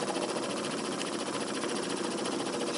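A 38cc Stirling engine running steadily, a dense continuous mechanical whir and buzz at constant loudness, close up, with its pace rising slightly and no speech.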